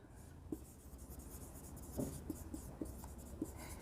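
Marker strokes squeak and tap across a board during a Class 12 accounting lesson on share capital, a series of short, faint scratches under steady room hiss, with no talking.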